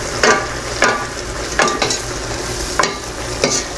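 Baguio beans and quail eggs are stir-fried in a pan. About five scraping stirs come close up and roughly evenly spaced over a constant bed of sizzling.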